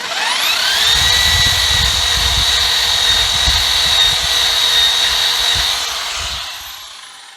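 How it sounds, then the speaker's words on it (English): Wire brush scrubbing around the drive shaft area of a Fiat Punto during a gearbox oil change, a loud steady power-tool whine with rasping scraping underneath, running continuously before tapering off at the end. "I'll just wire brush this down a little bit."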